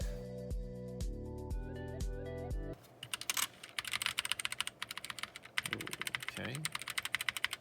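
Keys clatter quickly on a GK61 60% mechanical keyboard with optical switches, close and crisp, after a short musical passage, with a brief spoken word.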